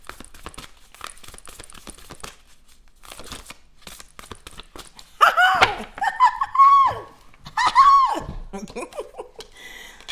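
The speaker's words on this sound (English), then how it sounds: "y'all be seeing me shuffle these cards" Tarot cards being shuffled by hand, a run of soft papery riffles and taps at first, then louder bursts of card shuffling with crinkly rustles later on, with no talking.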